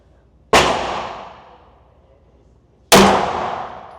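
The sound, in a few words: gunshots from a CZ pistol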